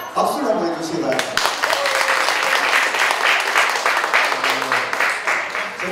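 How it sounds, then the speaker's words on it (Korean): An audience at the opening ceremony of an autumn community festival applauds the association officers with full, steady clapping that follows a brief voice at the start and holds strong throughout. "그동안의 노고에 큰 박수를 한번 해주시기 바랍니다"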